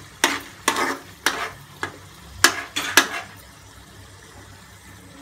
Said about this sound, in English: It should boil for 2 minutes.